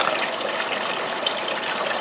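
Water gushing steadily across a pump-fed gold recovery table, a constant broadband rush with no pauses, close and fairly loud throughout.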